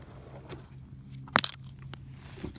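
Old glass jars clink as they are handled at a desert dump site, with soft scattered knocks and one sharp, bright clink midway, close by against a quiet background.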